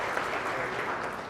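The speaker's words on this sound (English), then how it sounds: "I think he deserves an applause again." Audience applause at a report launch event, a dense, steady wash of clapping from a crowd throughout.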